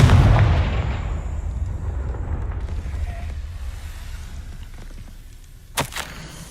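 The Confringo blasting spell goes off in Hogwarts Legacy with a loud, deep explosive boom at the start that rumbles and decays over several seconds, followed by a sharp crack near the end.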